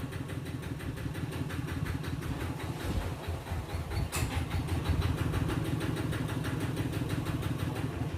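A truck engine idles and rumbles steadily while reversing up to a house, a loud, continuous mid-pitched drone with a slight rise toward the end and no talk over it.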